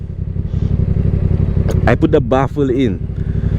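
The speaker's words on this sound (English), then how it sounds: "I don't know if you'll notice, but the bike quieter, much quieter. Yeah, I put the baffle in." A motorcycle engine with an exhaust baffle fitted idles with a steady low throb during rush-hour riding, while a person talks over it partway through.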